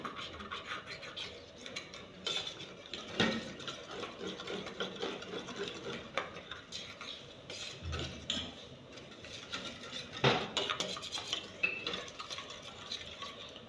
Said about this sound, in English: So as I'm mixing it now, the meat pie filling is on fire. It's cooking, it's not done.